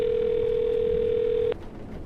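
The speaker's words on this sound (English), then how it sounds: "I'm going to dial his phone number right now, see if we can get him on the phone." A steady telephone dial tone hums loud and close for about a second and a half, then cuts off abruptly into quiet line noise.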